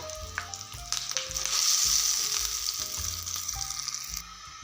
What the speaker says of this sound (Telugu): ఇప్పుడు తిరువాత పెట్టేస్తాను దీనికైతే చట్నీకి తిరువాత కూడా రెడీ అయిపోయింది